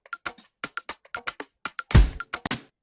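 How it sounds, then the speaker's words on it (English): A dry percussion loop for an Afro House beat plays alone in short, crisp hits with a syncopated rhythm, ending in one heavier accented hit with a deep thump, close and clean. "So I added like a percussion loop, sounds like this."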